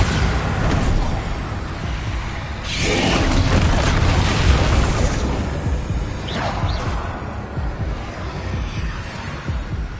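Bombarda spell blasts in Hogwarts Legacy erupt as loud, dense booming roars with whooshing rumble, one big burst swelling midway and a fainter crash later, with no talking.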